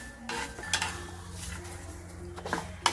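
Curry leaves and garlic roasting in a pan for raw tamarind chutney, with a spoon stirring and scraping against the metal and faint sizzling underneath, soft and close.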